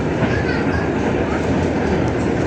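A train rolls through Lempuyangan station in Yogyakarta, a steady, loud and dense rumble of wheels and carriages filling the whole stretch without letting up.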